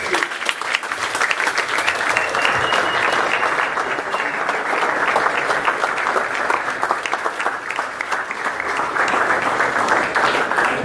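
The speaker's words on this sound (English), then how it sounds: "give a warm round of applause and welcome to Gabriel Luna-Ostaseski" Sustained, dense applause from a large audience at a Startup Grind Cape Town event, steady and loud for the whole stretch as a guest is welcomed, with a few faint voices mixed into the clapping.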